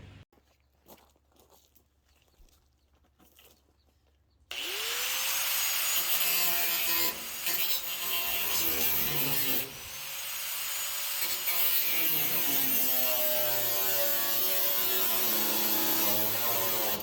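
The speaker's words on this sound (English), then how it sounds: "actually going to get the grinder out. I'm going to make a couple of cuts" An angle grinder cuts through the metal body of a Chevy rat rod, starting abruptly after quiet shuffling and then a loud, sustained harsh whine that wavers and dips briefly as the cut goes on.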